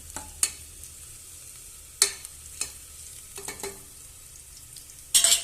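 Onions frying in a pan for chicken curry, a faint steady sizzle broken by several sharp scraping stirs of a utensil against the pan.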